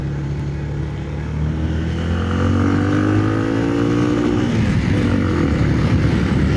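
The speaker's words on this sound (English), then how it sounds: "Well, that was the rev limiter then." A scrambler motorcycle engine revs up loud and close, the pitch climbing steadily before hitting the rev limiter, where the note breaks into a rough, stuttering buzz held at the top.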